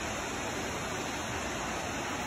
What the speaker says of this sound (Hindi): और ये नीचे बह रहा है झरना।